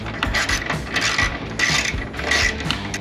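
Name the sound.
ratchet with 10 mm socket and wobble extension on bolts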